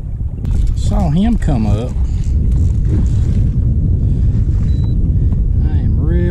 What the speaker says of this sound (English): I am really having to fight the wind again right here